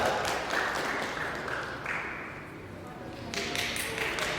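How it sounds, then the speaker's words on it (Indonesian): An audience applauds for Pak Yayat with a steady, moderately faint patter of clapping that continues throughout and swells slightly near the end. "sekali lagi tepuk tangan buat Pak Yayat"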